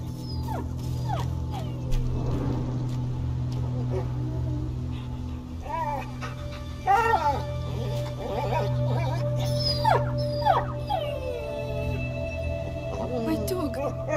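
A dog whines and whimpers in a video game, A Plague Tale: Innocence, with several rising, quavering cries and yips over a steady low ambient drone, sitting close and moderately loud.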